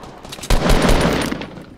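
Rapid burst of semi-auto rifle fire in the video game Fortnite, a quick string of sharp shots starting abruptly and tailing off over about a second, loud and close.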